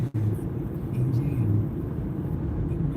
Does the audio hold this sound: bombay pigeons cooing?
no